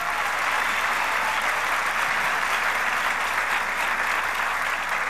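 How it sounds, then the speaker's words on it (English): A large political conference audience applauds, a steady, even roar of many hands that continues unbroken from start to finish with no voices above it. "Give her a round of applause, will you, please?"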